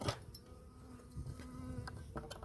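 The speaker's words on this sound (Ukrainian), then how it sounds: "Все, пчелки будуть працювати." Honey bees hum and buzz steadily inside a hive opened for its first spring inspection after wintering, a close, continuous drone with a few sharper knocks and scrapes from handling the frames.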